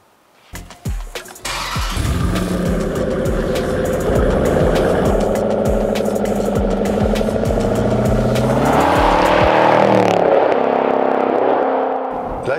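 Tuned Jeep Grand Cherokee SRT Trackhawk, a supercharged V8 SUV, cranks and fires up with a few sharp blips, then settles into a loud, deep, steady drone that rises in pitch as it pulls away.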